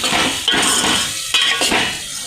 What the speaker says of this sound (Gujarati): આને ખાસ છે આપણે એક ધારું હલાવવાનું છે, ફાટી ના જાય